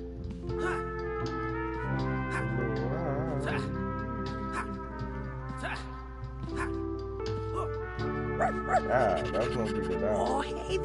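Hart, Arlene's dream dog in a video game, gives small yips and bow-wow barks mixed into steady game music, with a voice talking over parts of it.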